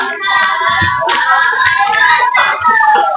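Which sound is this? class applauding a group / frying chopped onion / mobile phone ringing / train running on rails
class applauding a group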